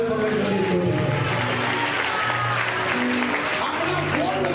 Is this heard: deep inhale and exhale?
no